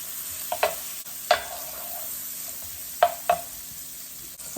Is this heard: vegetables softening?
yes